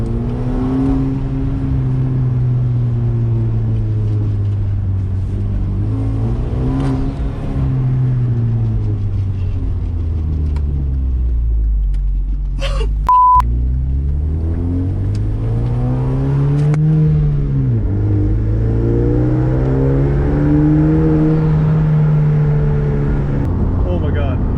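A Hyundai Genesis Coupe 2.0t with an MXP exhaust revving repeatedly, the engine note rising and falling in long sweeping pulls, loud and close, with a deep turbo four-cylinder drone.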